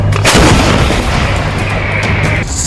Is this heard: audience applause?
no